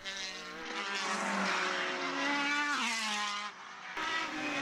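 Formula BOSS single-seater race cars thundering past at Mondello circuit, a loud sustained engine roar with rising and falling pitch as they accelerate down the straight, with no speech over it.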